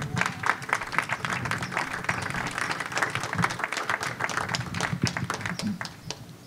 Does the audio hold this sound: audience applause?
yes